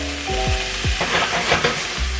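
Thyme, bay leaf and peppercorns go into a pot of sizzling onion and garlic, a loud close crackling fry with stirring scrapes and clinks.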